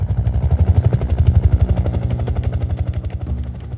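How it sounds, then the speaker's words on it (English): A helicopter's rotor thumps in a fast, steady pulse, loud and close overhead, easing slightly toward the end. "I could hear the chopper up above."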